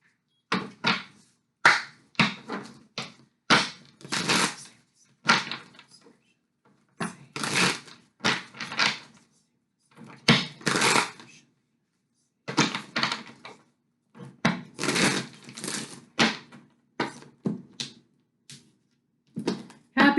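Tarot cards being shuffled by hand in close, crisp bursts of riffling and flicking, separated by short quiet gaps, with no talking.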